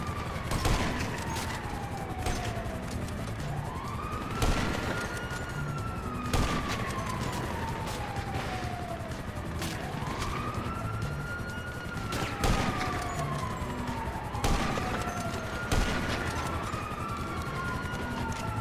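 Grand Theft Auto V gunfire crackles in repeated sharp bursts while a police siren wails up and down continuously underneath, the shots loud and close against the steady electronic sweep.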